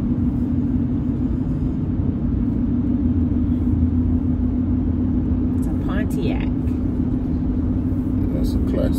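An old classic GTO car gives off a steady, loud low rumble throughout, with people talking over the engine drone.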